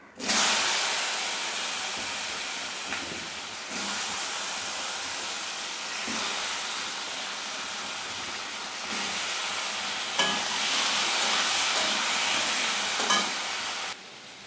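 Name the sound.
potatoes frying in oil in a pan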